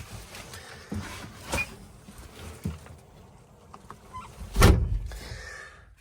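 A door on a 2024 Polaris Xpedition UTV opens and then shuts with a solid, close thump. A few lighter clicks and rattles of the latch and handle come before it. No voices are heard.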